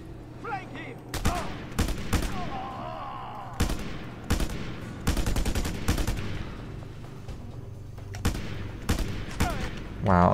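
Gunfire in the video game Just Cause 2: sharp bursts of shots and rapid automatic volleys ring out repeatedly over a steady low in-game rumble, with loud clustered rattles spaced across the stretch.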